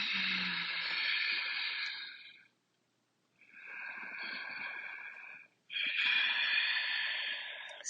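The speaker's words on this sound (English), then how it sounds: "Connect with that Ujjayi breath if that suits you." Ujjayi breathing in a moving meditation: three long, hissing, throaty breaths, close and fairly loud, separated by brief silent pauses, with no talk.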